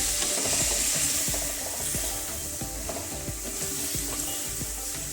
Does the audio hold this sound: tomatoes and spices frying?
yes